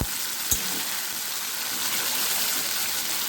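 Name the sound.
tomato paste frying in oil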